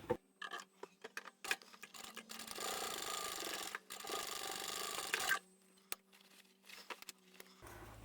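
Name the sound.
sewing machine stitching bag corners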